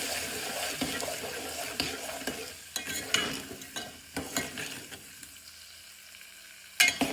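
Potato curry with turmeric and salt is stirred in a pan: irregular scraping strokes and soft sizzling, which quiet down near the end before a sharp clatter.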